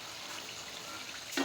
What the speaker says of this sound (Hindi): और इसी तरह से हम सभी को फ्राई कर लेंगे।